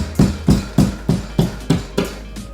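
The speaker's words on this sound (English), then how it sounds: "drywall cutting knife at an angle, and just kind of tap it just to get through that sheetrock" A drywall cutting knife is tapped at an angle into sheetrock behind a wall-mounted TV spot, giving seven evenly spaced, sharp, close knocks with no talk.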